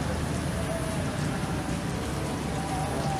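Steady light drizzle hissing evenly throughout, a soft continuous patter with no pauses, at night in flooded Banda Aceh.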